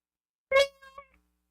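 A caller on a radio line imitates a cat with a single short, clear "meow" followed by a softer trailing bit, set against silence.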